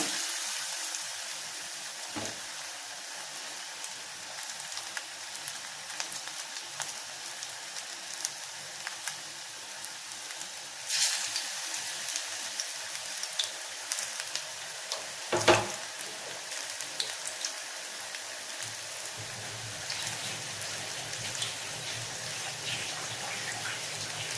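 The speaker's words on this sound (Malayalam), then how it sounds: "ഈ രണ്ടെണ്ണം നമുക്ക് നന്നായിട്ട് വറുത്തെടുക്കാം." Thattukada-style onion vadas deep-fry in a small cheenachatti pan, giving a continuous close bubbling sizzle with a couple of brief clatters.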